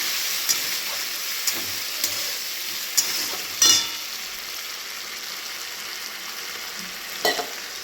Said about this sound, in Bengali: দিয়ে আমি মশলাটা দিয়ে দেবো। দিয়ে এটাকে আমি ভালো করে কষাবো।